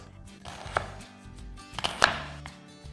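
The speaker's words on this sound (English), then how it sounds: "start cutting the onions. So I wet the blade and do it like this. We cut them into thin slices like this" A wetted knife blade slices onions into thin slices, giving a handful of crisp, close cuts at an uneven pace, with soft board knocks between them.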